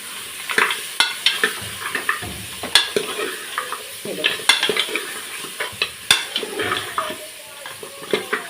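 Mutton paya sizzles steadily in hot ghee while a spoon scrapes and stirs the pan in quick, repeated strokes; close and busy, with no talking.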